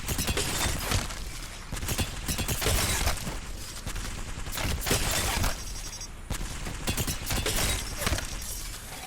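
Sustained rapid energy-weapon fire from the L-Star in Apex Legends crackles and pops in a dense, loud stream for several seconds, with overlapping impacts and no pauses.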